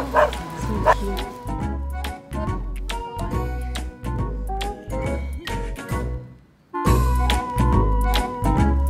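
A dog in Japan yaps and barks repeatedly in quick bursts, close and fairly loud, mixed with voices and other busy background sound.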